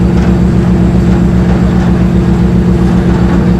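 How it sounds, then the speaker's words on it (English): A boat engine at open sea drones loud and close in a steady, low, throbbing hum that never changes pace. "apart from the noise from the engine, there really isn't very much noise at all"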